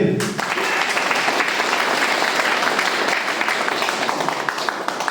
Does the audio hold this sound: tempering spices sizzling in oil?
no